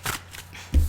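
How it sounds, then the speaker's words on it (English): Tarot cards being shuffled by hand: quick papery riffles and slides, close and clear, ending with a soft thump as cards settle. "I almost start to shuffle and cards are falling out"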